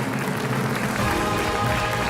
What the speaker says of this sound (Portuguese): O vosso aplauso para o Rodrigo Figueiredo!